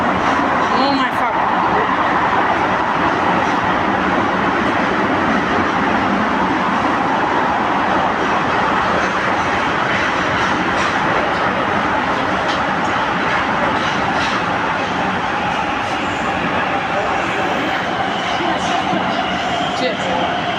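Bombardier Movia BM21 metro train running between stations: a loud, steady rumble and rolling roar with rhythmic rail clatter throughout, and people talking now and then over the noise.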